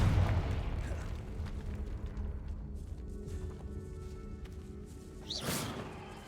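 A Confringo blasting spell explodes inside a decayed catacomb in Hogwarts Legacy, with a booming burst at the start and another crackling blast near the end over a low rumbling background.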